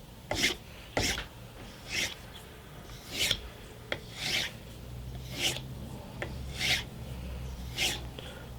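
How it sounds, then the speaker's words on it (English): A knife drawn across a leather strop loaded with polishing compound after sharpening, making about eight soft, evenly spaced rasping strokes, close and quiet with no talking. "I'll just give a few stropping strokes on the knife, just to clean up any burr that may be left on there"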